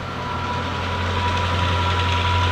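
A 2013 Hyundai Equus with a 5.0L GDI V8 engine idles steadily at close range, a low even hum with a faint ticking texture and no voices.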